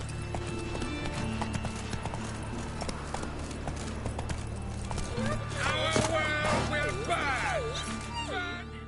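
Horse hooves clop at a steady pace in The Witcher 3, with rhythmic footfalls under game ambience while a voice speaks over the later part.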